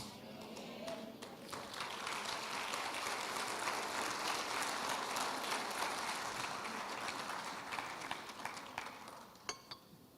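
Steady audience applause fills the room for several seconds, a dense wash of many hands clapping that thins out near the end.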